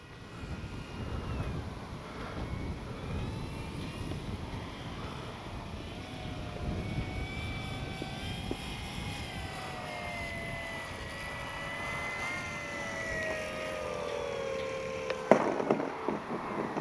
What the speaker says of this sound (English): Great flying plane. Great flying plane.